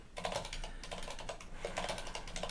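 A password is typed on a computer keyboard, a quick run of close, light key clicks in uneven bursts.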